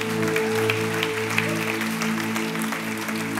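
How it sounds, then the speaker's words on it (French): A church congregation claps for the team during a French-language worship service, sustained applause under a steady tonal hum of music or organ drones. "Est-ce qu'on peut applaudir toute l'équipe également?"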